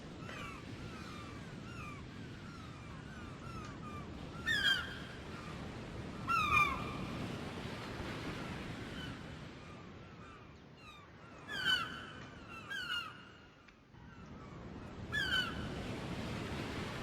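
Bird NPCs in an Unreal Engine game give harsh, honking caws at scattered intervals over a steady rushing ambient wash, the calls moderately loud and some coming in quick pairs.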